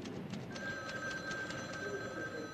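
A telephone bell rings in a house in the horror film Black Christmas. It sounds as a steady run of rapid, repeated trilling pulses with a thin electronic tone underneath, fairly loud and without talk.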